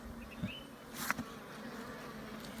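Steady low buzzing of honeybees around an open hive in January, a continuous droning hum with a few brief knocks and rustles close by.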